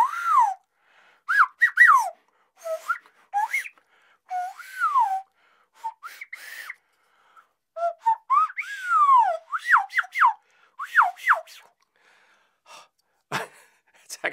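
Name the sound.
nose whistle being played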